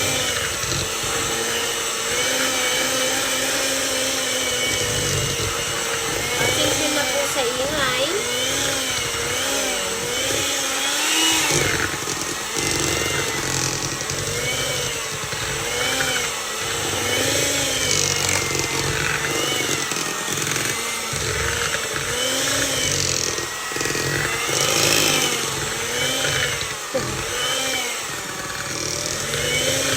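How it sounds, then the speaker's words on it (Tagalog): A blender whirs loudly and unevenly while mixing coconut milk with evaporated and condensed milk, its motor pitch wavering throughout; a voice briefly speaks over the noise. "Ayan, ito na po yung ating blender."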